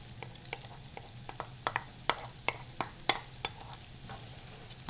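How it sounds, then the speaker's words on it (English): Onions sizzling in a pan with pancetta, a steady frying hiss punctuated by sharp pops and crackles, close and moderately loud, with no talking. "All right, there it is, starting to sizzle."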